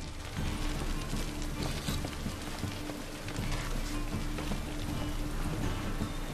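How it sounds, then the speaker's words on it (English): Rain falls continuously in The Witcher 3: Wild Hunt, a dense hiss of droplets on surfaces mixed with a low game ambience and faint mechanical clatter, steady throughout with no speech. "Raining again."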